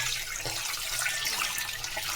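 Running water pours steadily from a tap over sardines being washed clean in a kitchen, a continuous close rush and splash with no pauses.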